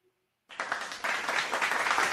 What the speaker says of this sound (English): A round of applause for Dominguez.